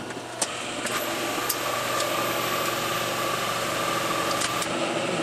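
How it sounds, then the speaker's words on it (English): A three-phase converter in a machine shop runs with a steady, continuous mechanical hum. A couple of faint clicks sound near the start, and the drone stays even and fairly loud throughout. "Let me turn the three-phase converter on."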